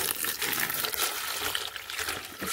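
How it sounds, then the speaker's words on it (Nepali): Water poured from a bucket onto squash (pumpkin) seedlings in a vegetable garden, a steady rushing, splashing pour that runs continuously and fairly close throughout. "पानी हालेर लगेर हुन्छ यसमा राख्नुपर्छ, पानी हाल्नुपर्छ फर्सीको बिरुवामा"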